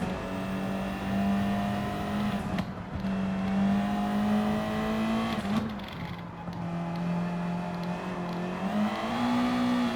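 Front-wheel-drive car engine in Gran Turismo 7 drones steadily and loudly throughout, with pitch dipping briefly around shifts or braking before climbing again on corner exit, no talk over it.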